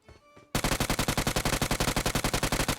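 Automatic gunfire in the video game PUBG Mobile rattles in a fast, steady burst of about two dozen sharp, loud shots after a brief quiet start.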